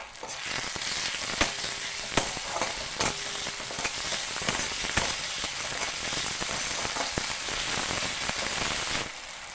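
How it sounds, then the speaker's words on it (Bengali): Ginger paste fries in hot oil for a spicy fish curry with cauliflower, a dense crackling sizzle close by, broken by sharp spatula clicks and scrapes as it is stirred a few times. "আদা বাটাটা আমি তেলের উপরেই দিয়ে দিলাম, দিয়ে 2-4 বার নেড়ে চেড়ে নিচ্ছি।"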